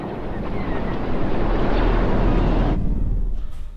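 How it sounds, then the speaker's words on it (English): A deep, dense rumble swells and builds like distant battle, loud and continuous, then cuts abruptly to a thin, quieter tail near the end. "you can feel and hear that rumble of the Force"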